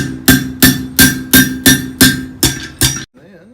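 Steady hammer blows on an anvil forging the foot of a blacksmith's holdfast, eight bright ringing strikes at an even rhythm, loud and close, then a short quiet tail.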